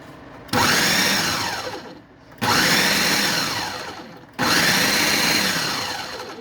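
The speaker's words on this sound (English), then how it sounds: "put it in a food processor or a blender and pulse it a few times until it's chunky" A food processor or blender pulses cooked Algerian mhajeb filling until chunky, three loud motor bursts of about two seconds each with short pauses between, close and with no one talking.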